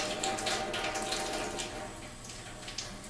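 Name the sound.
water flushing through Enagic water machine during cleaning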